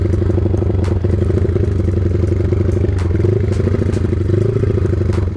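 Motorcycle engine of an MP Hiu Oren, a borrowed bike warmed up after five days parked, running steadily at close range with a low rumbling idle and slight throttle changes, no talking over it.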